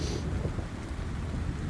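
Rain and rumbling thunder ambience for a tabletop role-playing game, a dense, steady downpour with low thunder rolling underneath, loud and continuous with no speech.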